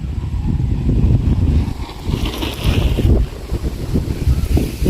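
Wind blowing outdoors on a cold day before rain, gusting as a loud, rumbling roar across the microphone that swells and eases in waves throughout.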